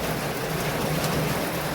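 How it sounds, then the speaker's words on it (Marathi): Heavy rain pours down in Kerala as a dense, steady hiss that stays even and close throughout, with no voices. "असा जोराचा पाऊस पडतो"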